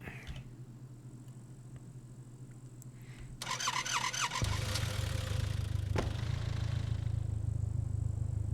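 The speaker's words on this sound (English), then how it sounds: "It's a garbage truck." A real garbage truck outside, with a low, steady engine hum that gives way to a loud mechanical squeal partway through, then a heavier engine rumble that carries on at moderate distance.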